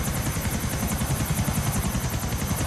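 Helicopter flying in GTA IV: a loud, continuous rotor thump with a rhythmic, pulsing chop and a steady engine whine, close and alone throughout.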